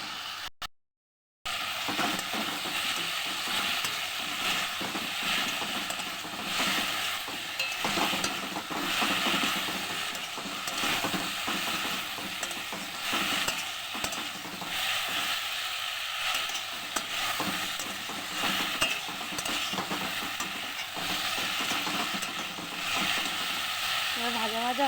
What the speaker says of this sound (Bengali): সবজিটা এইভাবে একটু ভাজা ভাজা করে নেব